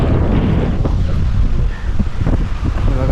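Strong wind near the wind turbines at Kanyakumari roars steadily into the microphone as a close, loud, gusty rumble, with no talking.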